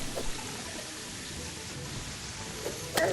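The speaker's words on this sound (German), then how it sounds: "Wie lange regnet es denn noch?" Steady soft rainfall in the video game Terraria, a faint even hiss running throughout with a small burst near the end, no voices.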